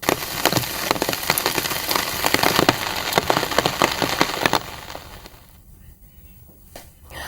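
Steady rain pours down, a dense hiss of falling water with scattered sharp spatters that fades noticeably toward the end, heard with no talking over it.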